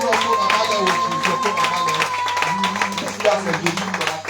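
A worship congregation at a deliverance and healing service keeps up steady clapping in welcome for the preacher, continuous and fairly loud, mixed with music and voices talking over it.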